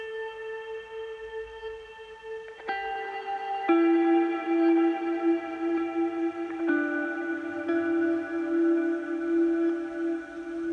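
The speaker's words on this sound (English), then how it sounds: "The first thing I added is my guitar sounds," Layered, smoothed and EQ'd guitar from a Native Instruments software guitar plays sustained, soft, spacey notes with a reverb wash, changing pitch every couple of seconds at a fairly quiet level.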